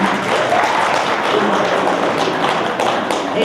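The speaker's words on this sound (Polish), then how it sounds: "Duże brawa!" An audience at a school winter-holiday closing event gives loud, dense applause, a steady wash of many hands clapping close by for the whole stretch.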